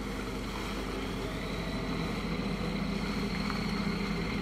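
A truck engine revving as it pushes through water in the MudRunner off-road driving game, a dense, continuous low rumble that holds steady and loud throughout.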